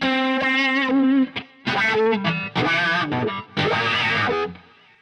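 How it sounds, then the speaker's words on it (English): Distorted electric guitar phrases through a delay effect controlled by an expression pedal, a faint repeating echo trailing each note, loud and close, played in bursts with short pauses. "Okay, you hear there's a slight delay."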